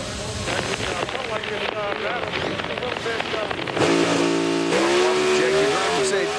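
Pro Stock drag racing cars making a pass at the Route 66 Nationals in Illinois, 2014: a loud, sustained engine roar rising in pitch through the gear shifts, with a commentator talking over it.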